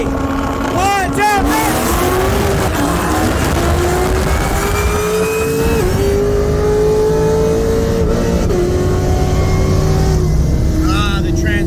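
A Porsche 911 Turbo with XR turbo kit on 93 and meth races a Magnuson-supercharged C7 Corvette Z06 from a 50 mph roll, heard from inside a car as a loud engine climbs steadily through gear changes, with people talking over it.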